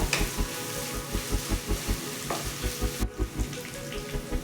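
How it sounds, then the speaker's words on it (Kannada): Fresh curry leaves sizzle in hot oil, a steady close frying crackle with rhythmic stirring knocks, cooking for mushroom pepper fry with no talking. "ಹಾಗೆ ಹಸಿ ಕರಿಬೇವು ಹಾಕೋತಾ ಇದ್ದೀನಿ."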